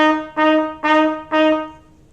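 Five sustained, slightly lower harmony notes of the second part of a beginner band tune, played on clarinet in a smooth legato line with short dips between tones, clear and close.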